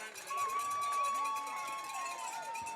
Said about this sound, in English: as they receive a round of applause from their fans that traveled all the way up from Baytown